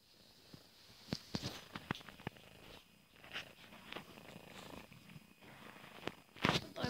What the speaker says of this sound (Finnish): kehräys kuuluu videolle